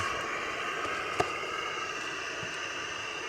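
A steady, loud roaring hiss of a camping stove burner runs throughout, with a single faint click partway through.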